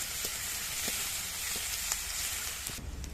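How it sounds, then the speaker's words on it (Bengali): Onion frying in hot oil with spices gives a steady close sizzle throughout, with a few soft clicks of stirring breaking through now and then. "পেঁয়াজটা দিয়ে দিচ্ছি, পেঁয়াজটা দিয়ে দিয়েছি। পেঁয়াজটা ভালো করে ভেজে নেব।"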